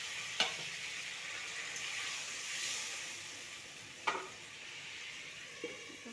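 Potatoes fried in a pan with a little water added, a steady sizzling hiss throughout with a few sharp utensil scrapes and clinks as the mixture is stirred; no talking.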